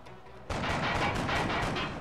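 Reaction-shot gunfire in XCOM: Enemy Unknown, a loud burst of rapid, rattling shots that starts abruptly after a quieter moment and continues unbroken to the end.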